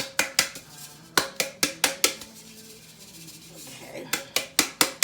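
A bundt pan is knocked repeatedly against a surface to shake out excess flour, giving sharp metallic taps in quick bursts of four or five, a pause of quieter rustling, then another run of knocks.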